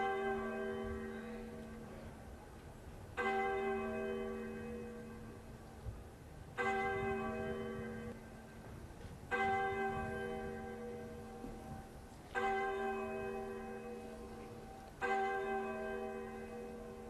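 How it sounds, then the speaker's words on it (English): A church bell tolls at a memorial for six lives lost after a campus tragedy, six slow, resonant strikes about three seconds apart, each ringing out and fading before the next. "6 bells for 6 lives lost"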